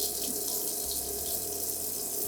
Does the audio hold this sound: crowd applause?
no